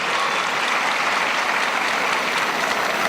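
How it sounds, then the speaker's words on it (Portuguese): A large congregation at a diocesan Catholic congress applauds steadily to welcome first-time attendees, a dense, even wash of clapping from many hands that holds at full strength throughout. "uma salva de palmas para estes que vêm pela primeira vez"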